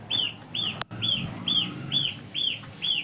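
Ten-day-old goslings give a run of seven high, evenly spaced peeping calls, close and clear, with a brief sharp knock partway through and no talk.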